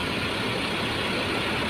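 An ALS 220 Ribbon bus engine runs steadily at idle right after starting, a constant low rumble with a broad hiss on top, close by and unbroken for the short stretch.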